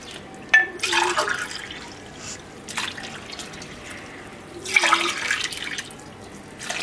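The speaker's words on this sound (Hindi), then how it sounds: "इसके बाद यही वाला मग 3 मग आपने पानी डालने हैं" Water is poured from a mug into a wok of cornflour on a stove while a falooda dessert is being made at home. Two splashing pours stand out against a quiet kitchen background, close and fairly loud.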